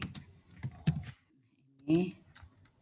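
Computer keyboard keys pressed for a copy and paste, a few quick close taps in the first second followed by a short spoken word, then another light tap or two.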